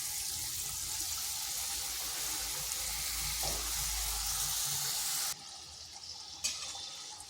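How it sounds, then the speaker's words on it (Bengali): Filled ripe palm fruit pitha fry in hot oil over medium to high heat, giving a steady close sizzle that drops quieter near the end, with no talk. "এগুলোকে মিডিয়াম টু হাই আঁচে ভেজে নিতে হবে।"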